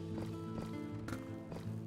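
Horse hooves clip-clop at a steady rhythm in a video game near a horse racetrack, quiet, with a low background hum.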